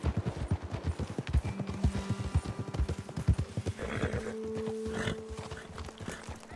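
Horses' hooves clip-clop steadily at close range in the video game Red Dead Redemption 2, with a whinny or snort mixed in, over a faint outdoor background.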